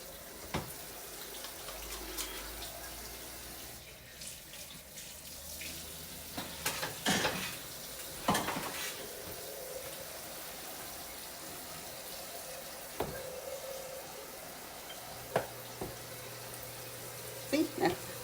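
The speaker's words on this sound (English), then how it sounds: "Wash your hands here." Kitchen tap running while hands are washed at the sink, a soft continuous water hiss with occasional splashes and clinks, faint and at close range.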